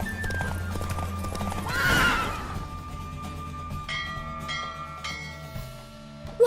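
Galloping hooves and a horse's whinny from a race in The Witcher 3: Wild Hunt, steady clip-clop rhythm with a loud neigh early on, followed by chiming bell-like tones, no talking.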